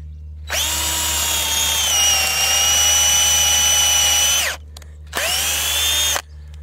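A drill driver whirs loudly for about four seconds drilling into wood, stops, then runs again briefly, its motor pitch dipping slightly under load, outdoors at an allotment.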